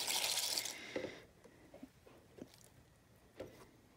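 Water pours loudly for the first second as it is added to a container of glass pieces for tumbling into sea glass, then gives way to quiet dripping and small clinks.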